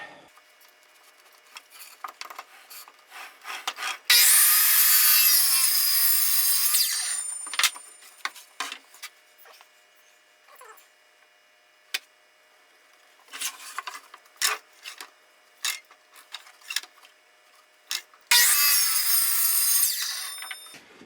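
A saw cuts through cheap plywood in two long, loud, harsh bursts, separated by stretches of scattered knocks and scrapes from handling wood and tools in a workshop, with no talk.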